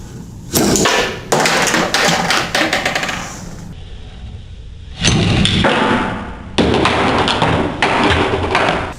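Small demonstration cannon fired in a monkey hunter physics experiment: a series of loud, dense bursts of clattering impact noise, broken by a brief gap midway, close and forceful with no talking.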